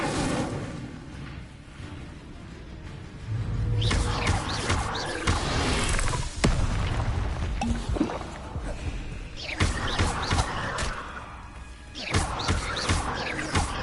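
Spell effects in Hogwarts Legacy, including the Incendio fire spell, burst out as repeated whooshing, crackling blasts and crashes at irregular intervals, loud and close over a steady game background.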